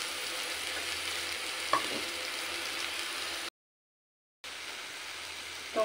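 Spiced masala paste with turmeric, salt and Kashmiri chilli powder frying in a little oil for an egg omelette curry, a steady close hiss with a stir scrape, cutting out briefly before resuming.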